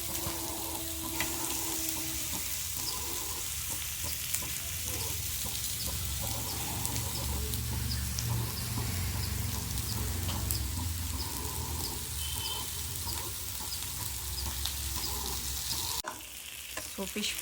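Fish frying in a pan gives a continuous loud sizzle with spatter and occasional stirring, close to the listener, ending with a brief shift in tone near the end.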